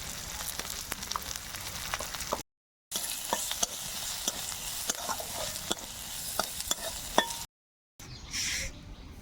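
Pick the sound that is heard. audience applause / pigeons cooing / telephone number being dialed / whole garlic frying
whole garlic frying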